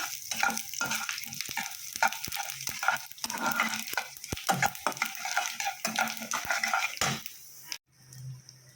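Asafoetida and panch phoron sizzling in hot mustard oil, loud and close, with rapid irregular clinks and scrapes of a metal spoon stirring in the pan, cutting off abruptly near the end.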